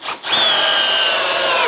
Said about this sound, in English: we're gonna just sink those 3-inch wood screws and see how they perform